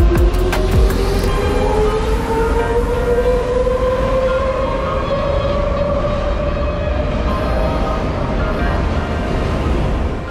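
A Medellín metro train runs with a loud, steady rumble while a rising electric motor whine climbs in pitch, heard from on board between San Antonio and Acevedo stations.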